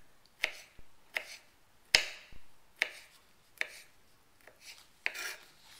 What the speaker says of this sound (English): Next, we're just going to dice these up